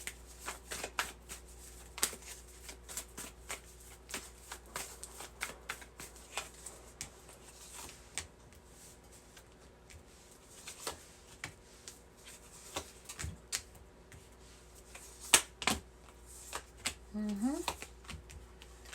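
Tarot cards shuffled by hand in a quiet indoor setting, giving a steady patter of soft riffling clicks and flicks across the whole stretch, with sharper card snaps now and then and no talking over it.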